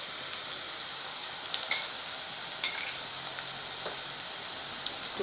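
Soft sizzle of chopped onions frying in a pan as green chili garlic paste goes in, a faint steady hiss with a few light clinks and stirring scrapes.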